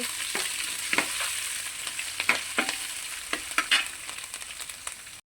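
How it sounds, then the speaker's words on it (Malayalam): Chopped ginger, garlic and green chillies sizzle in hot oil for lemon pickle, a steady close frying hiss broken by sharp scraping stirs of a spoon in the pan. "നമ്മുടെ അരിഞ്ഞു വെച്ചിരിക്കുന്ന ഇഞ്ചി, വെളുത്തുള്ളി, പച്ചമുളക് ഇട്ട് കൊടുക്കാം. ഇനി നമുക്കിതൊന്ന് വഴറ്റി കൊടുക്കാം."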